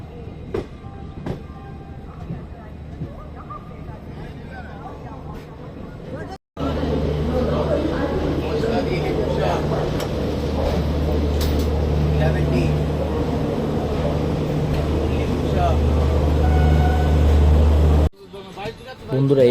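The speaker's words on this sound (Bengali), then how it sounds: "ইতিমধ্যে ট্রেন প্রবেশ করেছে খড়গপুর।" Festival special passenger train on the MAS to SRC route entering Kharagpur station, a loud continuous rolling rumble and rattle that starts abruptly and holds steady for about twelve seconds before cutting off.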